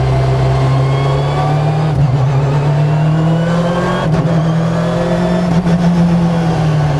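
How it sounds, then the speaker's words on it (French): A Peugeot 306 Maxi rally car engine revs and holds around 4000 rpm, a loud, steady, close mechanical drone with slight pitch rises and dips throughout. "Là, je suis à 4000 tours"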